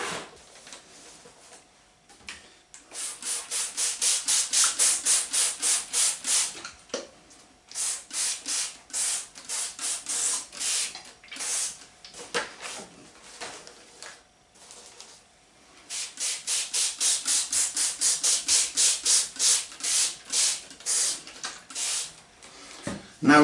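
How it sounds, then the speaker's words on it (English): A hand spray bottle mists water over soaked barley and wheat grass seeds, close, crisp hissing bursts fired in rapid rhythmic runs, with a few pauses between groups of squirts. "every 12 hours, come back, give them a little spray"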